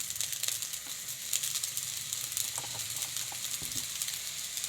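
Fried rice sizzles and hisses steadily in a hot pan as soy sauce goes in, a dense, bright frying crackle with small pops and no talking.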